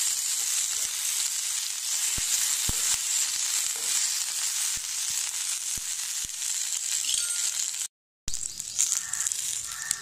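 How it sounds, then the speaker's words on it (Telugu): Toor dal and curry leaves fry in a pan for a chutney, giving a steady, loud, close hiss of sizzling oil with a few faint taps, broken by a brief silent gap near the end. "ఇప్పుడు కరివేపాకుని వేసుకుని 2 నిమిషాలు వేయించుకున్నాం."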